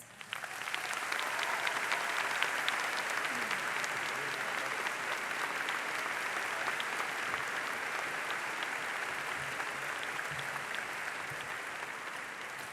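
A large audience claps steadily at a university senior day ceremony welcoming the chancellor, a dense, even wash of applause sustained throughout without speech.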